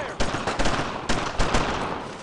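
Gunfire in the World War II shooter Brothers in Arms: Road to Hill 30, heard as loud, close bursts of rapid rifle and machine-gun shots overlapping in a dense volley, with no talking.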